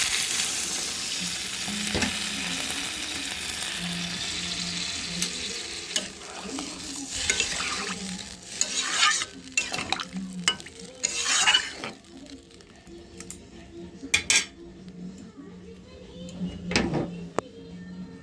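Pabda fish curry simmering and bubbling in a pan just after water is added, with a steady sizzle, clattering stirring and scraping sounds, and a brief clank partway through.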